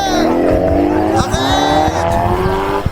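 A car speeds off, its engine revving and tires squealing in rising tones, loud and close under excited talk and game-like effects.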